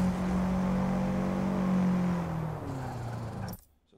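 A car engine in the Forza Motorsport 8 racing game holds a loud, steady high rev, then the pitch drops as it eases off before the sound cuts out abruptly near the end.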